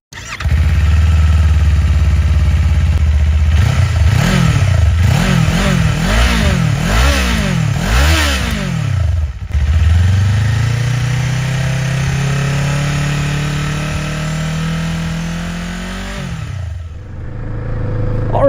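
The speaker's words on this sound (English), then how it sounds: "let's go ahead and jump to the exhaust clip so you guys can hear what this motor sounds like" A 2025 Kawasaki Eliminator cruiser's engine idles, then is revved repeatedly in rising and falling blips through its exhaust, before settling into a long steady rev that eases back down, loud and close with no talk.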